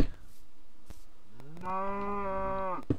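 A cow in Minecraft gives a single drawn-out moo that swells and holds for about a second and a half before cutting off, preceded by a few faint clicks and taps.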